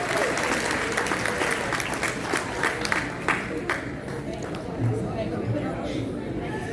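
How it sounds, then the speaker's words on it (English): An audience at a Pakistani-descent physicians society annual meeting applauds to welcome a speaker, loud sustained clapping with crowd chatter that thins out toward the end. "I would like you to really give her a big round of applause"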